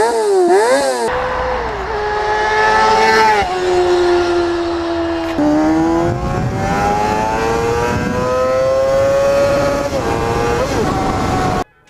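A Honda CBR 250RR inline-four motorcycle engine screams loud and close, climbing through high revs with rising and falling pitch sweeps and brief shifts, sustained for about twelve seconds.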